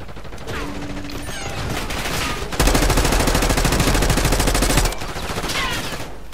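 Gunfire in Call of Duty Black Ops 6 multiplayer: scattered shots, then a loud sustained automatic burst lasting about two seconds, with voices talking around it.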